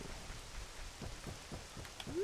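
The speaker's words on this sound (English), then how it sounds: "It's raining." Steady rain in the video game The Legend of Zelda: Ocarina of Time hisses throughout with scattered soft thumps, a continuous wash of falling water and no voices.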